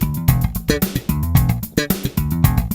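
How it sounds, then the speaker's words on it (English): Slap bass guitar plays a short repeating slap pattern, punchy low thumbed notes mixed with sharp popped snaps in a tight, syncopated rhythm, loud and close with no talking. "if you take a slap pattern you already know, for example, slap pattern 1"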